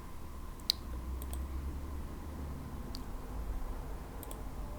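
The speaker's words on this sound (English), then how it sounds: "And I'm going to double click on mode base." Sharp computer mouse clicks on a desk during software setup for a SpeakerCraft Mode dock, a quick pair near the start and further clicks later, over a steady low room hum.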